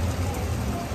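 Steady rain comes down at an outdoor state fair in Oklahoma City, an even hiss with low rumbling underneath, continuous and fairly close, with no voices in the moment.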